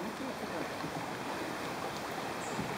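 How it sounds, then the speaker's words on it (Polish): Strong current on the Radunia river, a dense continuous rushing wash of water heard close and steady throughout with no voices. "Silny nurt"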